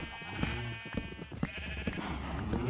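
Sheep bleating in Minecraft survival: several repeated, overlapping bleats sound in quick succession over a steady, sustained background tone.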